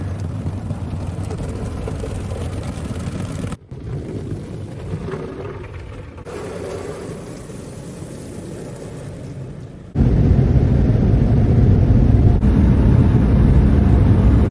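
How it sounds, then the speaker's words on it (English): Car wash air dryers roar loudly and steadily around a car, a dense broadband blast that shakes the vehicle, jumping louder near the end with no talking. "those dryers though, they like shake your car"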